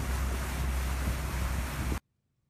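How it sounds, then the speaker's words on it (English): A motor-laden ferry crosses a river in Cambodia, its engines and the rushing water making a loud, steady broadband rumble with wind buffeting the microphone, which cuts off abruptly after about two seconds. "a ferry crossing the river."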